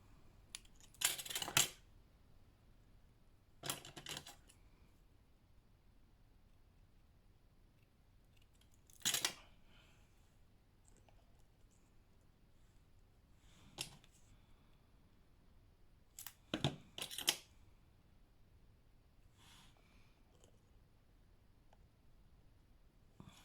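Scissors trimming paper in papercraft work, a few short, quiet snipping and rustling bursts spaced several seconds apart against a faint room hush.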